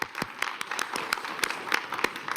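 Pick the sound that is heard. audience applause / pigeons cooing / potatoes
audience applause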